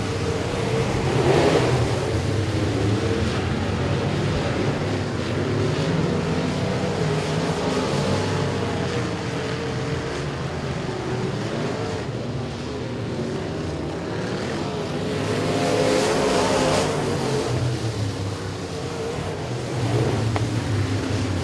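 Race cars roar around a dirt speedway at the start of a heat race, a steady loud engine drone that swells and fades as the pack passes, with no talk over it.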